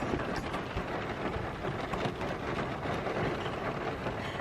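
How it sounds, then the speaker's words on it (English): Heavy rain pours down in a dense, unbroken roar of drops hitting surfaces, loud and close, with a low rumbling undertone and no talking. "just lots of rain"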